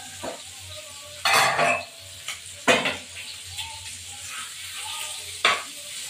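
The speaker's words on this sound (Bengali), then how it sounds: "আর একটু ভাজা হয়ে গেলে ডিমটা তুলে ফেলবো" Utensils scrape and clatter against a pan in a few sharp bursts over a steady, low sizzle of eggs frying.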